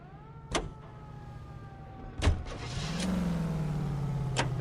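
Oldsmobile Hydromatic 88 engine starting in the LA Noire video game: a few sharp clicks, then a low engine note catches and settles into a steady idle, moderately loud, with no talk.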